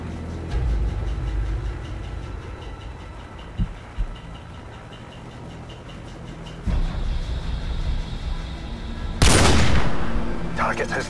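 Sniper rifle fire in the Call of Duty 4 video game, a few sharp isolated shots over a rumbling helicopter and engine backdrop, with a loud burst near the end.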